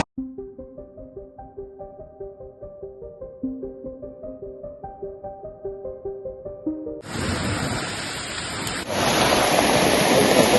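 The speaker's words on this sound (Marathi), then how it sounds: "पुढे पाऊस पाऊस चालू झाला" Heavy rain falls at night in a dense forest during camping, beginning as a loud broadband hiss partway through and then intensifying into a steady downpour, after a rhythmic tonal musical passage with no speech.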